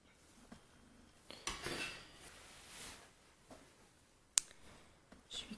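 Scissors snip through white yarn during granny-square crochet, a single sharp, close cut standing out against quiet handling rustles.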